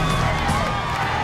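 Studio crowd at the Total Wipeout obstacle course cheering and whooping continuously, a dense, steady roar of many voices throughout.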